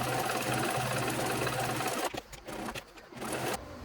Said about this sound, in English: Now I'm going to go ahead and stitch around my handle.